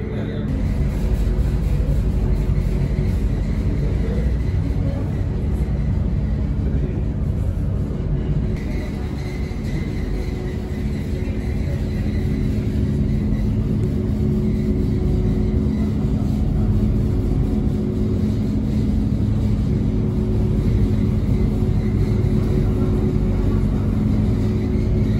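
Steady low engine rumble aboard the Staten Island Ferry Samuel I. Newhouse, a constant loud droning hum with a broad noisy wash that barely changes across the whole ride, no speech.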